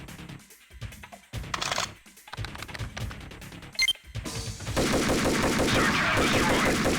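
Gunfire in the Max Payne video game, with scattered bursts of shots followed by a denser, sustained stretch of rapid fire and clatter near the end.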